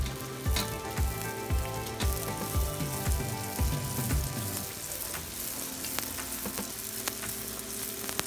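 Bhatura dough frying in hot oil in a kadai, a steady close sizzle with bursts of bubbling and occasional clinks and stirring, no voices.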